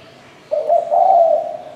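A spotted dove from Phú Yên coos once, loud and close: a low, sustained hooting call in two joined parts with no other sounds.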